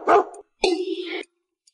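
A cartoon puppy barks in a school classroom in an animated series: two short, bright yapping barks in quick succession, close and clear with nothing else around them.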